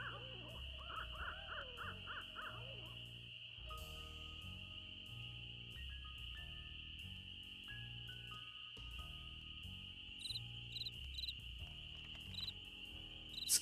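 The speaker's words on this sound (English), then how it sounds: "there's probably gonna be like crickets out or something at night now" Crickets chirp at night in a video game, a steady, faint high-pitched trill running throughout beneath a low ambient music bed, with no talking.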